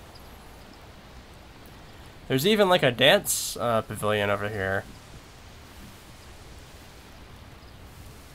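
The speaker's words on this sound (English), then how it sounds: "Some rain going on too, as we see." Steady rain in the virtual world of Second Life, a constant even hiss that continues throughout, with someone talking briefly over it in the middle.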